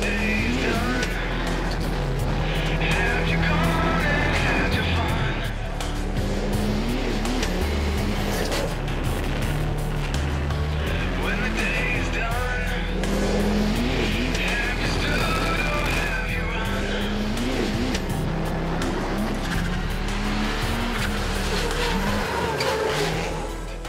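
A rallycross race car driven by Sebastien Loeb laps a track, its engine revving hard and rising and falling through repeated gear changes, loud and close for the whole stretch with brief tire noise.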